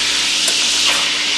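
Burger patties for a Reuben cheeseburger sizzle in a pan over low-medium heat, a steady close hiss of frying with faint crackles throughout and no talking.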